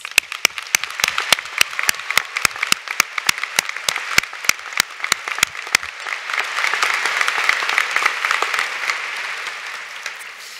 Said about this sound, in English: Please join me in giving the doctoral students another round of applause